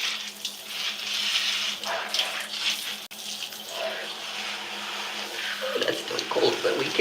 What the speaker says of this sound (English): This water's cool already, so I need to warm it up a little bit.